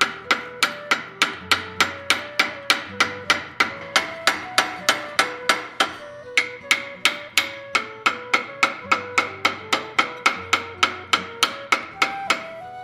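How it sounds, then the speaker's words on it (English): A ball peen hammer strikes steel while forging a vulture's head for a chess set, about thirty sharp, ringing blows in a steady rhythm, loud and close with a brief pause midway. "So, just coming in with a ball peen."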